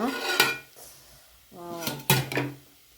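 A metal lid comes off a pot of simmering sea crab curry with clanks and scrapes, in two bursts of close, bright metallic knocks and rattles separated by a short quiet gap.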